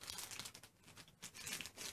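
Vacuum-sealed plastic packaging around a queen-size pillow crinkles and tears as it is opened, close, quiet bursts of crackling plastic in uneven spurts.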